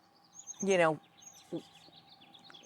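Birds singing at a Sonoma vineyard: one bright, rapid descending trill followed by a shorter chirp, fairly close, over quiet background with faint other calls.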